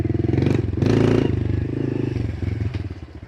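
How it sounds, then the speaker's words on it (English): A 2021 Honda CRF 110 kids' dirt bike with its 110cc engine runs close by, a loud, throbbing single-cylinder putter that rises and dips as the throttle eases off and the rider shifts gears. "Put your foot up, put it in first gear. Okay, there's second gear. I do let off the throttle when I shift"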